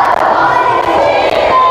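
A church congregation at a healing service shouts together in unison, a loud, sustained mass of voices that fills the room.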